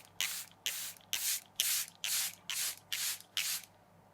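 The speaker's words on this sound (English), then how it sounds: "we're going to get our setting spray again" A makeup setting spray is pumped onto a face in eight quick, evenly spaced bursts, each a sharp, airy hiss, close and clear against a quiet room.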